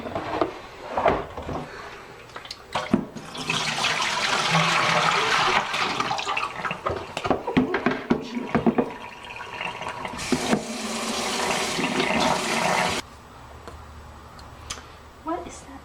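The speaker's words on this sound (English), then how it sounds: "I'm rinsing the laundry and some things bled" Laundry rinsed by hand in water, with splashing, sloshing and dripping in a long continuous wash through the middle and scattered sharp knocks and handling noises around it; a voice speaks at times.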